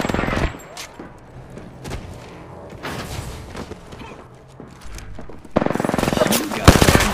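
Enemy gunfire in a shooter video game, bursts of rapid shots and impacts that grow louder and denser near the end, layered with game effects and a voice talking over parts of it.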